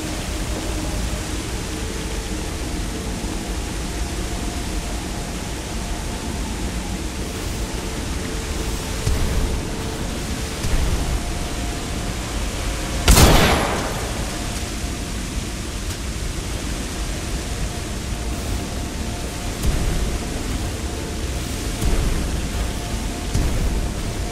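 Steady rushing flow of a sludge stream in the Titanfall 2 game, a broad continuous wash of water-like noise heard alone, with one brief sharp burst near the middle.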